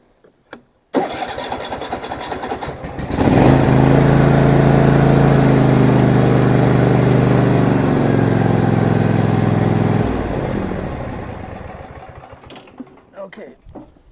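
A riding mower engine with a newly replaced starter cranks for a couple of seconds, catches and roars up loud and close, then runs steadily at idle before winding down near the end.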